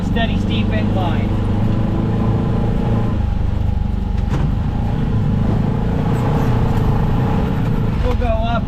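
A turbocharged Honda Pioneer 500 UTV engine pulls steadily up a steep hill in third gear, a loud continuous drone with wind buffeting, running at near range throughout.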